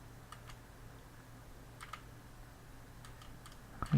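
A mouse clicks in short, scattered bursts at erratic intervals while parts of an image are erased in GIMP, quiet and close over a low steady hum.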